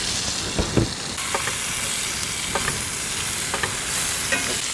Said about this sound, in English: So we have some vegetables sauteing